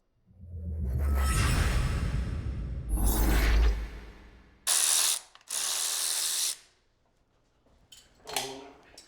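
A ratchet wrench clicks close by in long rapid bursts while a blower camshaft goes into a Ford Windsor small-block engine, the bursts separated by short pauses and ending in a brief final rattle.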